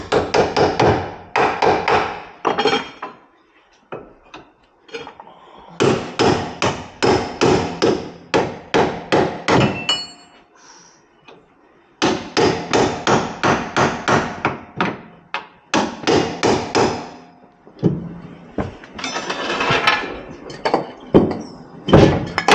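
A hammer strikes a chisel to free a ball joint on a Renault Master van, loud metallic blows in fast rhythmic bursts of several hits each, separated by short pauses, close and alone.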